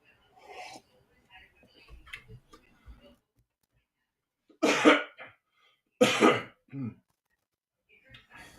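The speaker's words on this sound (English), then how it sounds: "had to cough there." A man coughs twice in quick succession, two loud, close bursts that stand out after a stretch of quiet, with faint rustling and small clicks scattered before and after.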